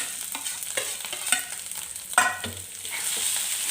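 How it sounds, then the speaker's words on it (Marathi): Boiled, hand-mashed potato sautéed in a pan, with a low frying hiss under repeated scraping strokes of a spatula and a louder scrape near the middle. "परत एकदा व्यवस्थित परतून घ्यायचं"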